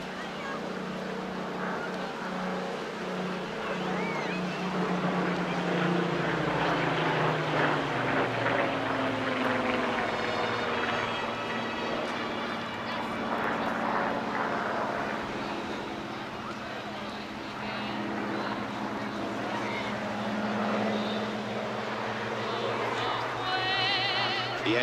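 Hawker Hurricane, the last one built, a WWII fighter flying at the Clacton seaside airshow, its propeller engine droning steadily and shifting in pitch as it passes, heard over a commentator speaking on a PA.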